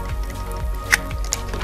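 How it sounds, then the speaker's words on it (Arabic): Water sprinkled onto the soil surface of bean and legume seedlings at home, a near, soft liquid trickle with small drips and squishes, heard alone. "انا ببلبل بس وش التربه"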